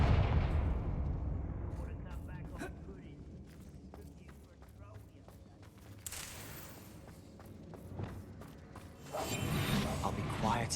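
A Confringo blasting spell in a Hogwarts video game goes off as a sharp burst followed by a rumbling explosion, amid clanks, footsteps and game effects, with a voice speaking over it.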